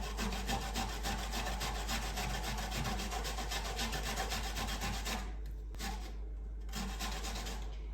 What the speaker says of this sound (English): I'm actually going to grate a little bit more.